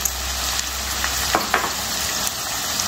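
Whole spices, including cloves, dropped into hot oil for veg pulao, making a close, steady sizzle with a few sharp pops and stirring clinks.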